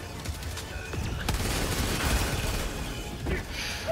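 A deployed sentry gun fires in the video game Helldivers 2, rapid sustained automatic bursts with booming impacts, loud and dense, continuing for several seconds.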